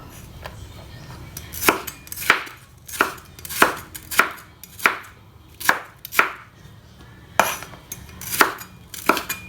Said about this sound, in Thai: ก็หั่นเป็นเส้นๆ